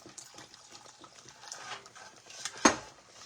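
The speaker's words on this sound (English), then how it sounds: "I'm going to add a little bit more water." Water is poured into thick gravy in a kitchen: a soft, faint trickle and splash building to a single sharp clink of a utensil or pan near the end.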